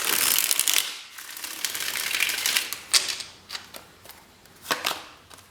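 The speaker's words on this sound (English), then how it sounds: "One more shuffle." Tarot cards being shuffled: a long riffling burst followed by several shorter crisp flicks and snaps, close and fairly quiet, with no talking.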